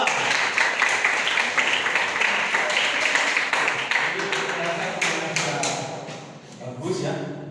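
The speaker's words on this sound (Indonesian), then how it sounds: "Kasih tepuk tangan untuk kelompok 2." Classroom applause for a student presentation group in an Islamic history lesson, dense clapping sustained for several seconds, fading slightly near the end, with some voices mixed in.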